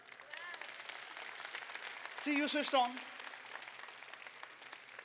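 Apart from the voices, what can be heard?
audience clapping for the speaker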